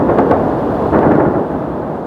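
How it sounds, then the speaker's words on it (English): Explosions over Kyiv during an overnight drone attack as air defenses fire, a continuous loud, low rumbling roar with a few sharper bursts, heard from a distance with no voices. "loud explosions could be heard all over Kyiv,"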